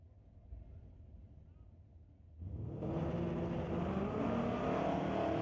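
Two drag-racing vehicles, a 2000 Mustang and a 1989 S10, launch at a strip, a low idle rumble jumping into a loud, sustained engine roar as both cars pull hard.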